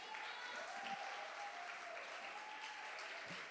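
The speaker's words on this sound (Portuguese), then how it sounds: "Então, mais uma salva de palmas," Audience applause after a piano recital at a church gathering, a faint, steady wash of many hands clapping heard from a distance, with a quiet tone and a few voices underneath.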